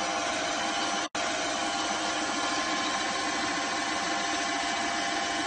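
A freshly built Grand Prix GTP transmission running on a dyno, giving a steady, loud, continuous mechanical drone with one very brief dropout near the start.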